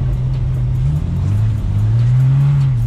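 A car engine revs hard and continuously close by on an icy winter drift track, the pitch rising and dipping as the throttle is worked while sliding on ice.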